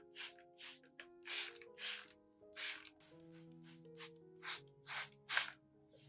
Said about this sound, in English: When spraying, cover both sides of the leaves evenly for comprehensive care